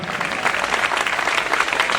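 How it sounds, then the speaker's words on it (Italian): An audience at an amateur talent show, La Corrida in Ruvo di Puglia in July 2013, applauds a performer named Antonella with dense, steady clapping that fills the whole moment without a break. "un applauso ad Antonella"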